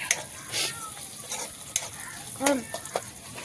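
Onions sizzling and being stirred in a pan for noodles over a wood-fired chulha stove, soft crackling frying with intermittent scraping stirs and light clinks, no talk.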